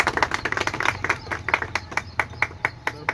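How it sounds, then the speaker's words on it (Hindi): An audience at a World Indigenous Peoples' Day event gives a short burst of applause to welcome guests, with sparse, uneven claps close by and no talk. "हम तालियों से उनका स्वागत"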